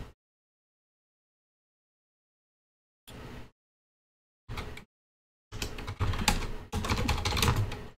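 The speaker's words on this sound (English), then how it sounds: "Maybe I should type in chat." A computer keyboard is typed on while chatting during an online Magic: The Gathering Brawl game, with short clicky bursts of keystrokes after a silent stretch, growing into a longer close run of typing.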